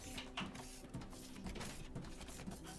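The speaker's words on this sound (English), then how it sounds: "weld the head." Welding a robot's head together in the Foundry video game, heard as a steady mechanical buzzing whir with faint clicking ticks repeating roughly every half second, fairly quiet and without talk.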